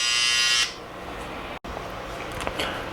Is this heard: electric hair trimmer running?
yes